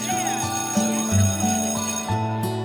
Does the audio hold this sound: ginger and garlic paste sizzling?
no